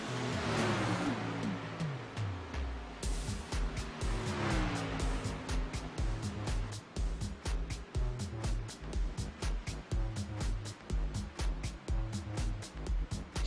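Race cars at Daytona International Speedway during an All Pro cash race. A loud engine drone swells and falls as cars roar past, then gives way to a rapid, regular stream of close pass-bys.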